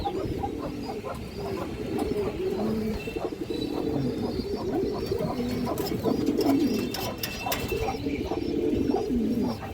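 Pigeons cooing in a large loft collection, a pair of boot-beaked birds among them, with repeated soft throaty coos and scattered chirps and rustles close by.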